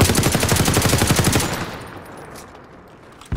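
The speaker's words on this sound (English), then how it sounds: "Hey, somebody else shooting him." Rapid automatic gunfire in a multiplayer shooter game pounds in a fast steady burst, loud and close, then cuts off and fades into quieter ambience.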